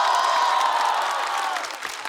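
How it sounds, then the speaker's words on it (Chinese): A stand-up comedy audience cheers and claps for comedian Xiaolu, a dense, even wash of crowd noise lasting about two seconds and fading slightly at the end. "掌声再给小鹿"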